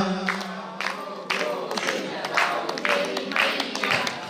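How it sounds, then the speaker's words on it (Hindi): A crowd claps together in a steady rhythm during a Hindu devotional song offering to the Mother goddess, with voices singing over the applause. "आइए माँ को भोग लगाते हैं मीठी मीठी तालियों से"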